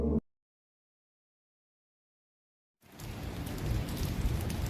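Steady rain drums on the roof of a car, a dense, continuous patter that starts abruptly after a long silence and holds loud and close to the end.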